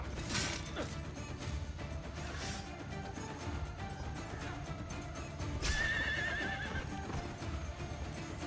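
A horse neighs twice amid clip-clopping hooves and clanking mechanical ambience in Assassin's Creed Brotherhood, the whinnies rising sharply over a busy, steady background.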